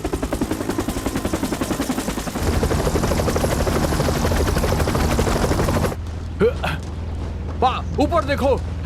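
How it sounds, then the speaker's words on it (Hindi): In a movie, a helicopter's rotor thumps loud and rapid before the scene cuts to a lower engine drone under quick, urgent shouting voices. "ऊपर देखो, हेलीकॉप्टर आ रहा है"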